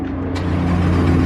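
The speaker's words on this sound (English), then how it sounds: "Give me a cold start" A green Lamborghini Huracan engine on a cold start, a loud close idle with a sharp rise in intensity and a steady deep drone, no talk over it.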